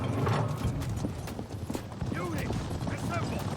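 Horse hooves clip-clopping in the video game Conqueror's Blade, rapid repeated hoofbeats amid battle clatter and mechanical sounds, with voices calling out over them.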